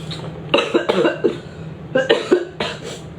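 A person with a cold coughs in close, harsh bursts, two clusters of rapid coughs separated by a short pause, heard clearly over faint room hum.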